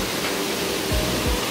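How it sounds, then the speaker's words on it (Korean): Steady broadband roar of Ungye waterfall, about 20 m high, on Gamaksan mountain, heard from the viewing spot in front of it as continuous rushing water with no voices. "드디어 높이 한 20m 되는 웅계 폭포 앞에 와 있습니다."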